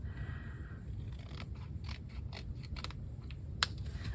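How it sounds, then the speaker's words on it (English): Scissors trim the overhanging edge of a paper pocket flap, a quick run of small crisp snips close by over a low background hum, ending in a sharp click. "I've got a little bit of overhang here that I'm just going to cut right off"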